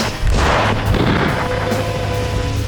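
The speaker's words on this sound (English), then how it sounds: "that explosion was huge" A large explosion blowing up a shark in a lake, heard as a loud, sustained roaring boom with rumbling debris that stays heavy and dense throughout, far off but powerful.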